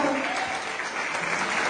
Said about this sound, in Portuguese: Você pode dar uma linda salva de palmas ao Senhor por essa palavra?